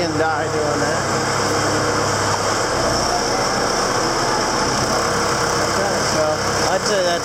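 A John Deere 6200 tractor engine idles steadily nearby, a loud constant rumbling drone that holds throughout, with someone talking over it.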